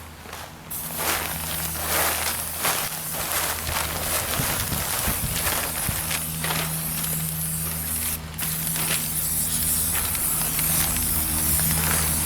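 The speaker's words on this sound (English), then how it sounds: "We're going to use the spray glue instead of tape." Spray glue sprayed from an aerosol can during lead-safe painting prep, a series of hissing bursts of varying length with short gaps, heard close and steady over a low background hum.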